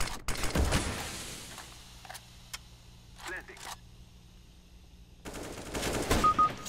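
Rifle fire in CS:GO, a couple of sharp shots at the start followed by scattered clicks and quieter activity, then a dense rattling burst near the end, with a voice talking over parts of it.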